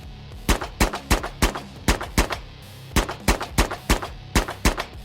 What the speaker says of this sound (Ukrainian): Тишу нічного лісу прорізали постріли.